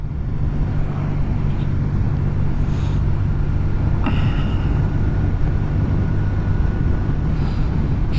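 A car engine runs steadily in fifth gear at cruising speed, a loud continuous low drone with road and wind noise and no break.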